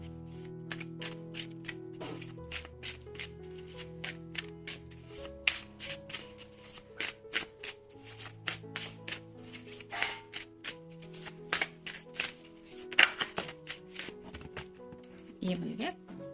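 Tarot cards shuffled by hand, a quick run of crisp papery flicks and taps set against steady background music.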